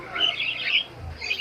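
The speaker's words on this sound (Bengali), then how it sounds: "এই এক জোড়া কবুতর আছে" Pigeons at an open-air pigeon market in Khulna, Bangladesh, giving short squawking calls and coos in a steady run, close by, over a dense crowd murmur.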